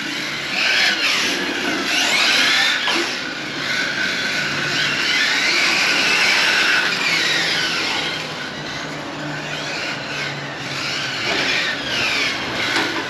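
Electric whine of a Hobao Hyper VT radio-controlled car driving over a gravel parking lot, rising and falling with throttle bursts, fairly close, with crunching gravel beneath and no talking.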